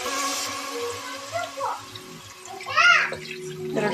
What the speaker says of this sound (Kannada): 2 ಲೋಟದಷ್ಟು ನೀರು ತಗೊಂಡಿದ್ದೀನಿ